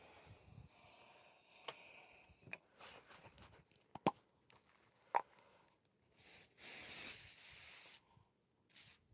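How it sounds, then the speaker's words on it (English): A hissing aerosol starch spray bursts onto fabric close by for under a second, surrounded by light handling clicks and rustling of fabric. "I don't normally spray this type of stuff in here because I don't like starch everywhere."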